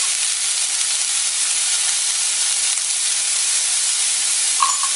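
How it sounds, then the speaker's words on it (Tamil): Shredded cabbage with turmeric and chili powder sautés in a hot pan, giving a steady, even sizzle and hiss that runs throughout at a close, moderate level, with no talk. "இந்த மிளகாத்தூள் பச்சை வாசம் போக 1 நிமிஷம் வதக்கி விட்டோம்"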